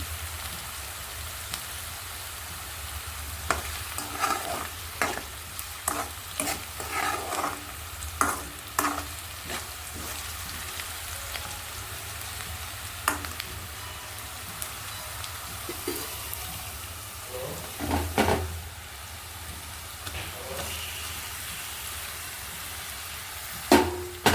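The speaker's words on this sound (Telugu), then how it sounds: "ఇలా మిక్సీ పట్టుకున్న పచ్చిమిర్చి వెళ్ళి వేసేసుకొని మొత్తం కలిసేలాగా కలిసేసుకోండి" Green chilli paste being stirred into a frying pan of gongura curry with egg, giving a steady crackling sizzle with repeated scraping strokes of the spoon throughout, close and alone with no talk.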